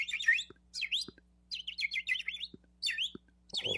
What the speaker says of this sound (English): So Suleiman, he speaks to the birds.